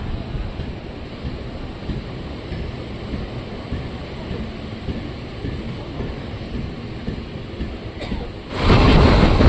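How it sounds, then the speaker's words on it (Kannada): At Channapatna outer, a train running from Talaguppe to Mysore crosses. Heard from aboard a moving train, a steady rushing roar with wind noise suddenly swells into a loud, close blast near the end. "ಚನ್ನಪಟ್ಟಣ ಔಟರಲ್ಲಿ ತಾಳಗುಪ್ಪೆಯಿಂದ ಮೈಸೂರಿಗೆ ಹೋಗ್ತಿರೋ ಟ್ರೈನು ಕ್ರಾಸಿಂಗ್ ಆಯಿತು."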